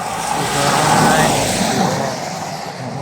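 Steady roar of road traffic sweeping past on a highway, loud and close, swelling then easing as vehicles go by, with a brief voice cutting in.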